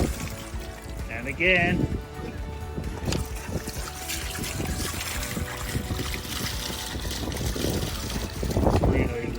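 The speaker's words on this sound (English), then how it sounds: "loves the running water" A dog splashes through running water on a seaside walk at Tankerton, with continuous trickling and sloshing and occasional louder splashes, while someone speaks briefly over it.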